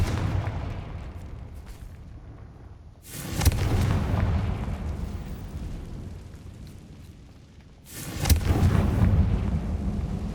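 Confringo fire spell explosions in the Hogwarts Legacy video game: two heavy booming blasts a few seconds apart, each a sharp hit followed by a long rumbling tail that fades away.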